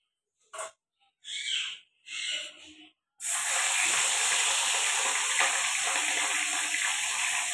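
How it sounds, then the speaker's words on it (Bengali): Fish frying in a pan: a few short bursts of sound, then a loud, dense, steady hiss of sizzling oil that carries on unbroken and close, no talking. "মাছটা ভেজে নিই"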